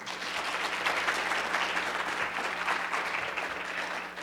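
Audience at a mock IMO general assembly gives steady, sustained applause, a dense clapping roar that holds evenly throughout with no talking.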